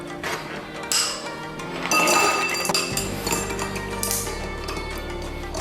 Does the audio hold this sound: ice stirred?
yes